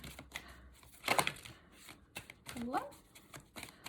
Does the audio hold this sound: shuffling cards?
yes